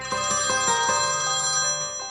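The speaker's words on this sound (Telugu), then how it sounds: "ఆ ఫోన్ ఎవరు చేస్తున్నారు చూసేసి పో" A phone ringtone chimes in a quick series of bright, evenly spaced electronic bell-like pulses, moderately loud and alone, with no voices.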